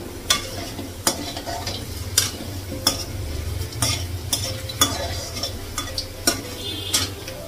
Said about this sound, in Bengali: আলুটা ভাজা হয়ে গেছে, আলুটা বের করবো